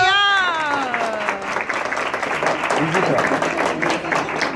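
A church audience at a Christmas program breaks into loud applause, a dense wash of clapping that runs throughout, with a voice briefly heard at the start.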